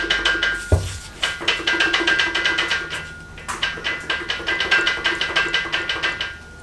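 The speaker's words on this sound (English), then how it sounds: "but most of that noise is the gearbox." BMW E46 M3 gearbox turning over as the greasy prop shaft is rotated by hand: a close series of rapid rhythmic clicking, knocking pulses in repeated bursts, with a brief pause between runs.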